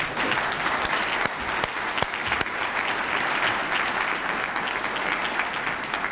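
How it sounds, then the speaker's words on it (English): An audience at a college alumni award ceremony claps steadily and loudly for the recipient of a distinguished service award, a dense wash of applause that holds from start to finish without speech. "let's clap again for Mr. Mottier for receiving the College Alumni Award for Distinguished Service."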